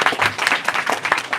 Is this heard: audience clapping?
yes